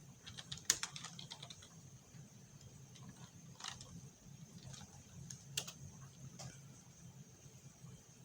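Quiet, rapid clicking of typing on a computer keyboard while entering a command for a Node.js server, with irregular bursts of keystrokes and a few louder taps, close and alone.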